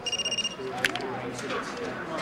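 A telephone rings with an incoming call in a TV soap opera scene, a short series of rapid bell-like trills at the start, followed by hushed talking.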